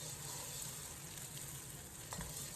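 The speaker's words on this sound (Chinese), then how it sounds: "油彻底烧热以后，放入准备好的蛋液。" Beaten eggs hit hot smoking oil in a wok, a dense continuous sizzle and crackle, loud and close, steady throughout the short stretch with no voices.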